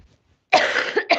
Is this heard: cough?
yes